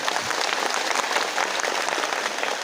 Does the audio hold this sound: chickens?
no